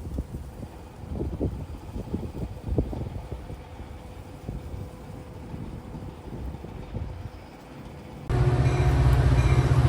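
Diesel rumble from a passing CSX GP40-2 locomotive, formerly B&O, with steady low-frequency engine and rail noise that turns into louder broadband wind buffeting near the end.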